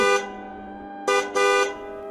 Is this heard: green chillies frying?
no